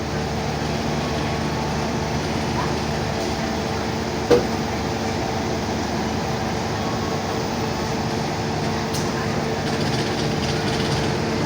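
The Sri Tanjung passenger train rumbles steadily along the rails with a continuous broadband roar, a faint metallic clank partway through, no voices.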